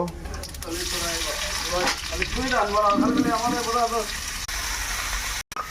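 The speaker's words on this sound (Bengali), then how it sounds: "এটা ভেজে নেব। এবার পেঁয়াজ দেব।" Onions frying in a pan while curry is cooked, giving a steady hissing sizzle throughout, with someone talking over it.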